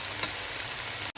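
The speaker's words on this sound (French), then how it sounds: "Et je laisse un petit peu mijoter." Vegetables simmer in walnut oil in a pan, giving a steady, close, even sizzle with no talking.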